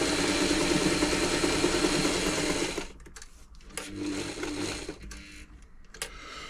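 A Singer 237 sewing machine runs a zigzag stitch, a steady close mechanical whir for about three seconds, then it stops and a few scattered clicks and knocks follow as it is handled.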